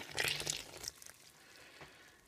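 A liquid yeast mixture is poured into another bread-dough mixture, with a short splashy pour up front that tapers to faint drips and quiet.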